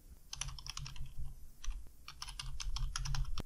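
Bursts of rapid typing on a computer keyboard as a file name is entered, crisp close clicks in quick runs separated by short pauses.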